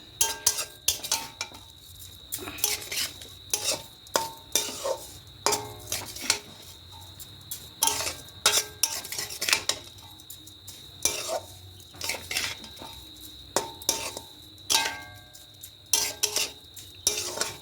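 A utensil works a white coconut naru mixture in a pan over a medium flame, producing repeated rhythmic scraping and clinking strokes over a faint background sizzle.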